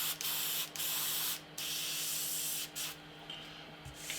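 Mr Hobby Mr Procon Boy FWA Platinum double-action airbrush with a 0.2 mm nozzle spraying thin paint: close, steady hissing bursts, about six of them, separated by brief pauses.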